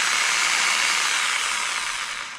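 Electric jigsaw with variable speed running steadily, a loud, continuous high-pitched buzzing whine that holds for a couple of seconds and then eases off slightly at the end, with no talking.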